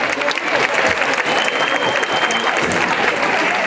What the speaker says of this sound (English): if you would help me give them a round of applause as well.